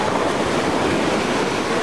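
Ocean surf washing onto a beach in Costa Rica, a loud continuous rush of breaking waves with wind buffeting the microphone, no speech.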